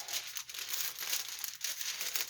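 Wax paper skirt being handled and crinkled while setting up a chair glue-up repair, a steady run of close, papery rustles and crackles with brief dips, no talk.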